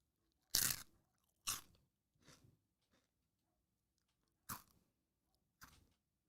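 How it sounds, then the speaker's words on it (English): A Lay's potato chip is bitten and crunched close to the mic: five sharp crunches at uneven intervals, the first two loudest, then softer chewing crackles in near silence with no talk. "here I am about to crunch a chip"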